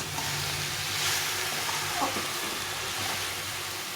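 Cabbage curry being stir-fried in a pan, with a steady sizzle and frying hiss running throughout and the occasional scrape of stirring, close and moderately loud, with no talking.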